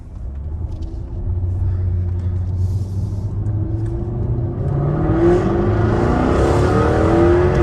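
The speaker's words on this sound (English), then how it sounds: "we're gonna pull out here, we're gonna give her a little bit of a blurp" A rented supercar pulls out with a loud, sustained engine rumble that builds into a revving climb, the pitch rising steadily over several seconds with no talking over it.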